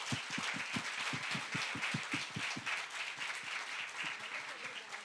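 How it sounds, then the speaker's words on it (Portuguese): Warm audience applause greets screenwriter Glória Pérez at a TCM Rio event, a dense steady wash of many hands clapping, with a few close sharp claps standing out rhythmically at the start. "Recebam agora, com uma calorosa salva de palmas"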